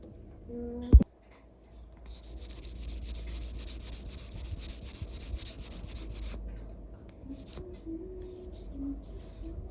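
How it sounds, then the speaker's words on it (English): Silver jewelry being sanded with 600 grit sandpaper, a soft, steady rubbing rasp up close that runs for several seconds after a brief knock, then fades, with faint voice in the background. "I came back to 600 grit sandpaper because I just saw something rough inside the circle that needs to be tackled with the lower grit sandpaper"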